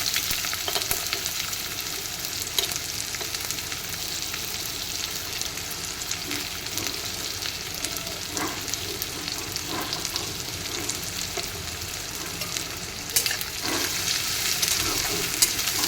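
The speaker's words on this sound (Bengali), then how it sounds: "কড়াইতে দিয়ে দিলাম সর্ষের তেল, তারপর এগুলোকে একসঙ্গে দিয়ে দেব।" Chopped onion and green chili fry in mustard oil in a kadai, giving a steady, close crackling sizzle that runs the whole time with occasional stirring scrapes and no voices.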